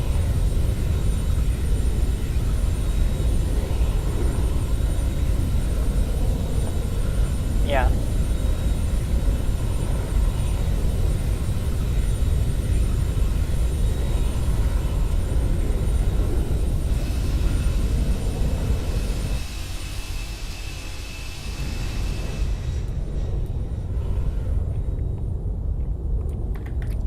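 An airplane engine drones in flight in a video game, a loud, constant rumbling hum that holds steady and dips briefly near the end, with a single short spoken word.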